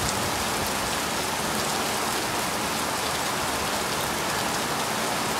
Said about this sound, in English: Raining throughout, and I just couldn't go.